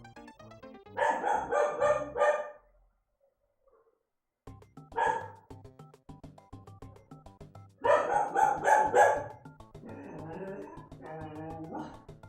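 A pet dog barks in short repeated volleys, close by, with quiet gaps between bursts and a game's sounds running underneath.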